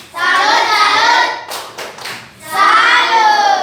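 A class gives a salute clap: a chanted group cheer runs through a short burst of hand claps and thumps near the middle, loud and close.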